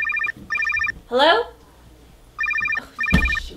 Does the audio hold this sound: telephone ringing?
yes